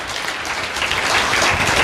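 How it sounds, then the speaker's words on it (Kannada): A church congregation clapping together, a dense burst of applause that holds steady and swells slightly toward the end, heard without any voices. "ದೊಡ್ಡ ಚಪ್ಪಾಳೆ ಕೊಟ್ಟು ದೇವರಿಗೆ ಮಹಿಮೆ ಸಲ್ಲಿಸೋಣ"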